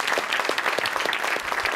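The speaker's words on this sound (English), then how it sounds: "I'd like to ask you to join me in an applause for our panelists and for all of you for this great discussion" Audience applause for panelists at the close of a panel discussion, a dense burst of many hands clapping steadily and fairly loud throughout, with no talk over it.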